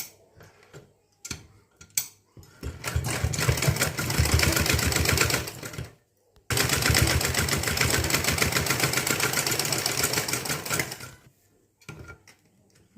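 Sewing machine stitching along a blouse edge, running in two long bursts of rapid rhythmic mechanical clatter with pauses and quieter handling sounds between them.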